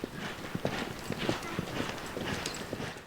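Several horses trot and lope at Rainbow Trout Ranch, a steady, overlapping clip-clop of hooves on the ground at moderate distance, continuous over a soft outdoor background.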